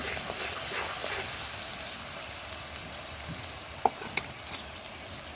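Chili paste fries in a pan with coriander and cumin, making a continuous close sizzle with light stirring and a few sharp clicks of a utensil near the end, without speech.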